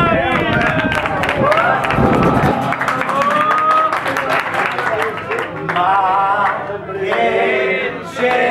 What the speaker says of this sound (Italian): ci vuole l'applauso.